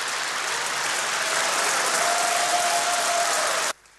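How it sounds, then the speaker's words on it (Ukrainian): Parliament deputies of the Party of Regions applaud Yanukovych at his presidential inauguration, a loud, dense, sustained ovation from a large hall that cuts off abruptly near the end. "регіонали аплодують"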